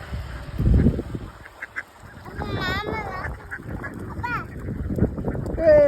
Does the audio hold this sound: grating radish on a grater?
no